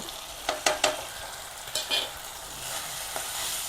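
Turmeric, chili powder, Kashmiri chili, coriander and cumin sautéing in oil for an egg potato rice dish, a soft steady sizzle broken by a few sharp clinks and scrapes of a spoon against the pan.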